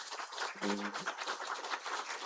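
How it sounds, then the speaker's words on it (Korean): A church congregation at a Sunday worship service claps together to welcome guests: a dense, steady wash of applause filling the room, with a brief voice rising above it early on. "우리 박수로 환영하도록 하겠습니다"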